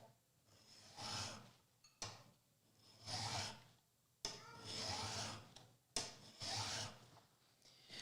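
A file is dragged through the saw kerf of a wooden dovetail joint in four slow, even, quiet rasping strokes, each lasting about a second, with short pauses between them.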